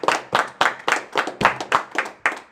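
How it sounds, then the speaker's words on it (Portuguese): A church congregation claps in praise of the Lord, a sharp, steady rhythm of about eight unison claps, close and fairly loud. "Vamos aplaudir o Senhor."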